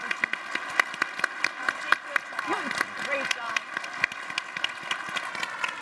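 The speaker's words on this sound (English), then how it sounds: "big round of applause for Chairman Svinicki and Margie Doane" Audience applause fills a conference hall, with steady, fairly dense clapping rising and fading over several seconds while a voice speaks briefly over it.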